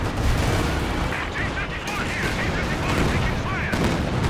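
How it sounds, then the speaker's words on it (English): Katyusha rocket barrage in the World War II strategy game Company of Heroes 2, a dense, continuous rumble of overlapping blasts and explosions, loud and sustained with a commentator talking over it. "Decent Katyusha barrage."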